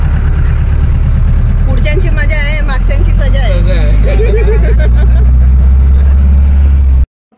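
A car carrying a packed group of passengers, four squeezed into the middle seat, drones with a steady low engine rumble while driving, loud throughout under lively talk and chatter, cutting off abruptly near the end.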